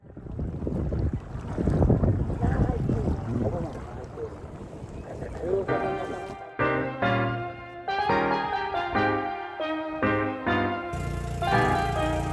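A boat motor drones over rushing wind and water as the boat approaches the shore at Tayabas Bay, Quezon, then a steadier engine tone comes through with gusty wind buffeting the microphone.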